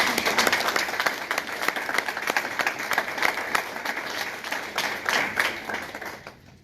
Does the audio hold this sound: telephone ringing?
no